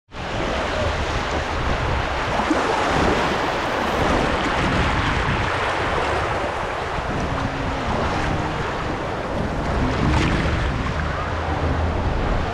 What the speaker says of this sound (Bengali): এখানে ঢেউ হচ্ছে, বিক্ষিপ্তভাবে ঢেউ হচ্ছে।